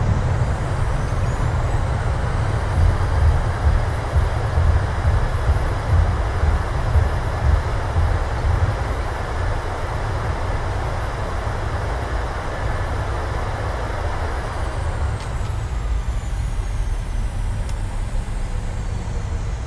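A PMDG 737-700 rolls out after landing in Microsoft Flight Simulator at San Jose, a steady loud engine and runway roar that holds evenly for the whole stretch, then shifts slightly near the end.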